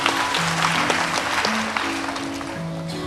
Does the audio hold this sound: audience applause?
yes